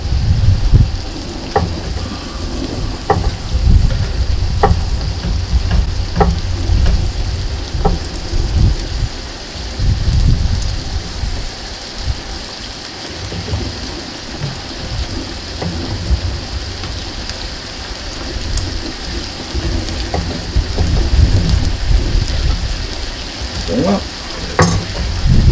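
Bacon in small pieces sizzles and crackles in a pan over an outdoor cooking setup, a dense, steady patter much like rain that goes on throughout, with scattered sharper pops and no talking.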